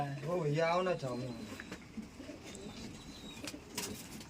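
Punjabi pigeons coo softly in the background while someone talks over them, the cooing low and partly buried under his voice.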